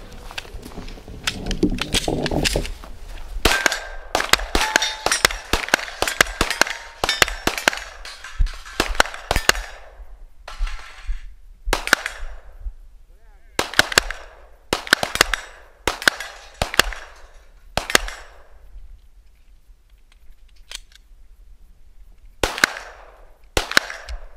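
Gunshots from a Glock PDW at an outdoor shooting range crack loudly and close, first in quick strings of rapid fire and then as slower, evenly spaced single shots with brief gaps between them.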